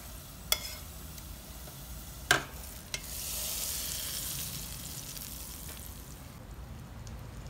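Hot frying oil poured over cooked lentils and fried onions, starting with a few sharp clinks, then a loud hissing sizzle that swells and gradually settles into a steady softer crackle.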